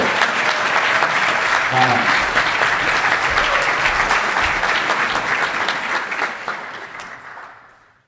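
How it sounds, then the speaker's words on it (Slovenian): Audience applauds speaker Andrej P. Škraba at a Bitcoin talk event, a loud full burst of clapping with a few murmuring voices in the mix, holding steady before tapering off into silence at the end. "prosim en aplavz za Andreja P. Škrabo"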